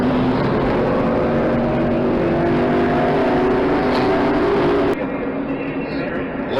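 NASCAR race cars roar loudly down the backstretch during a late-race wreck, engine noise dense and sustained before cutting off abruptly, with a commentator talking over it.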